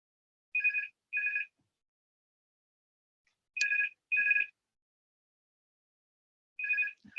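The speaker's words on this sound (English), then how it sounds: "Now I've had a phone that's rung." A telephone rings in short paired bursts, three double rings separated by silence, clear and fairly close.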